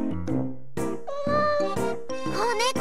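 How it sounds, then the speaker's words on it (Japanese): A kitten meows several times in quick succession in the game D4DJ Groovy Mix, with high, bright, rising and wavering cries close by. "子猫だ、かわいい"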